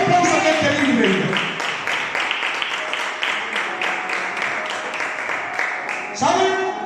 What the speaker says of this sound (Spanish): dale un aplauso a este libro